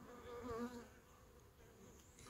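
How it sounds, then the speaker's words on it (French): Honey bees from an aggressive hive colony buzz close by, with a steady drone that is strongest early and then eases to a fainter hum. "C'est vraiment une ruche, une colonie un peu casse-pied."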